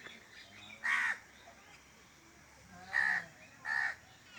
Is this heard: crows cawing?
yes